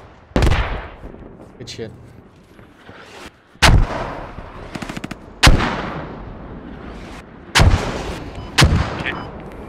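Mortar rounds firing in the military shooter game Squad, a series of heavy booming launches spaced a few seconds apart, loud and close, with radio chatter and talk between them.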